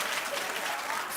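A studio audience at a daytime talk show breaks into loud, dense applause, a continuous wash of clapping filling the short moment with no break.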